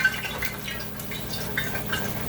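A few drops of water flicked into hot frying grease for squirrel sputter and crackle in a pan, with irregular pops and sizzles over a steady hiss.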